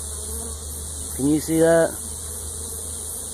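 Male drone honeybees buzzing over a hive frame built on drone foundation, a steady close hum under the short remark of someone speaking.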